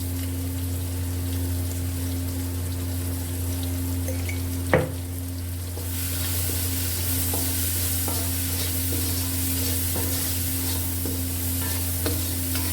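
Tomatoes and green chillies cooking with salt in a pan, a continuous low sizzle with scattered stirring clicks and one sharp clatter partway through, no talking.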